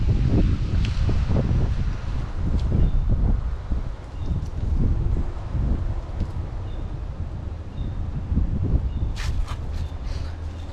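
Steady outdoor wind rushes across the microphone on a disc golf course, a constant low roar with gusty swells and faint rustling, alone throughout.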